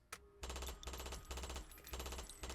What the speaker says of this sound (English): As the elevator closed, all you could hear is bullets.